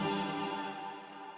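A sustained guitar chord smeared into a wide, shimmering wash with chorus-like movement, slowly fading as it blurs toward reverb.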